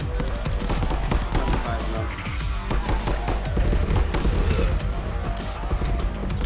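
Rapid bursts of gunfire from the VR shooter game Contractors crackle loudly and continuously, close up and dense, blended with other in-game combat noise.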